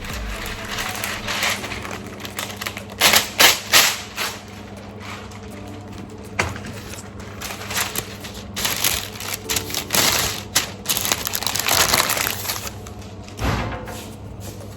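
Greaseproof paper is crinkled and pressed onto a metal baking tray, giving close, irregular crackling and rustling bursts with occasional light knocks against the tray.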